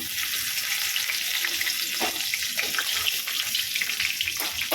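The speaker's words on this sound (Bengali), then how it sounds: "রসুনগুলো একটু ভাজা হলে" Chopped garlic frying in hot oil with whole garam masala, bay leaf and cumin, a dense continuous sizzle with occasional light stirring, close and steady.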